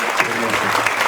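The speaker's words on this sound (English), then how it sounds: "give them a round of applause for economic development" Brief burst of audience applause for an economic development team at a Navajo Tribal Utility Authority gathering, dense steady clapping filling the whole moment.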